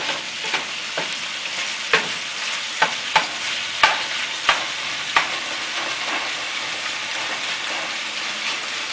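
Beef pieces coated in tomato paste are stirred in a hot pot for beef stew, a constant sizzle punctuated by a string of sharp scraping knocks from the spoon, close and fairly loud.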